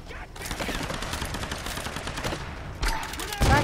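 Rapid gunshots in the Tomb Raider game, a dense stream of shots over about three seconds with heavier blasts near the end, loud and close with a voice faintly underneath.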